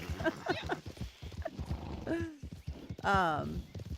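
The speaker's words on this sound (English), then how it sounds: "he jumps on the horse" Horse hooves clip-clop in Red Dead Online, a brief run of hoofbeats mixed under a speaking voice, followed by a louder whinny-like burst.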